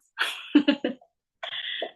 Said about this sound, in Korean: 제가 자꾸 기침이 나와가지고